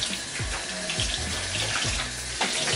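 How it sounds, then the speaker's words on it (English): Tap water runs steadily into a sink while tie-dyed clothes are rinsed under it, giving a continuous splashing flow with periodic sloshing as the fabric is moved, close and loud with no talking. "I need to rinse these out until the water runs clear"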